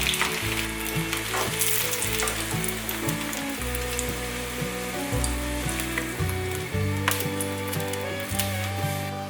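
Enoki mushroom rolls wrapped in nori fry in a pan for a vegan dish, giving a steady close crackling sizzle with scattered pops, accompanied by background music.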